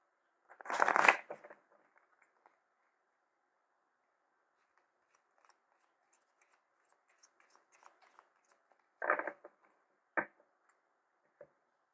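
Gypsy (cigano) card deck being shuffled: a riffle of cards at the start, then scattered soft ticks and two short shuffling bursts later, close and quiet in an otherwise silent room.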